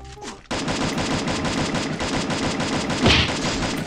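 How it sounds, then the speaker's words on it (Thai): Rapid sustained automatic gunfire in the mobile shooter Free Fire, a dense, loud stream of shots that starts abruptly and rolls on for several seconds, alone without talking. "เฮ้ยยิงมาแต่ไหนวะ"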